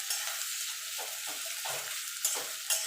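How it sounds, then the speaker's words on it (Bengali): Onion frying in a pan for a Bengali loitta fish jhuri dish, a steady soft sizzle with occasional stirring scrapes and a couple of brief sharp clinks, fairly quiet and with no talking. "এবার পেঁয়াজটাকে আমি ভাজা ভাজা করে নেব"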